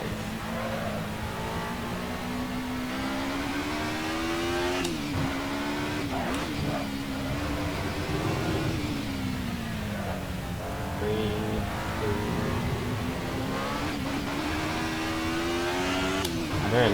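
Alfa Romeo 155 Ti V6 lapping Imola in the Assetto Corsa racing game, a steady synthesized engine drone rising and falling with throttle, punctuated by brief dips and shift blips over a continuous run, with faint talk at times.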